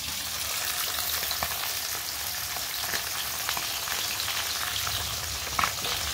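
Bora fritters frying in hot oil in a kadai give a steady, close, even sizzle and crackle with no pauses and no voices.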